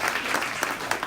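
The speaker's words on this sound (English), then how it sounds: "we can give him a clap" Crowd clapping for an attorney being honored at a community awards ceremony, a short burst of steady, close applause.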